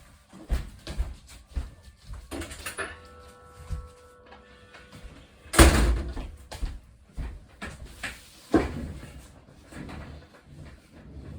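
Scattered household clunks and knocks come as a door is opened to let a dog out, with a couple of louder thuds and a brief mechanical hum between quieter rustles.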